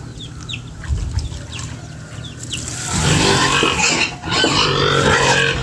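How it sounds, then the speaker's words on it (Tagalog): Hungry pigs on a farm squeal and grunt loudly and close by, the noise building and growing denser in the second half, with chickens clucking faintly in the background. "kanina rang baboy reklamo kay gutom na daw"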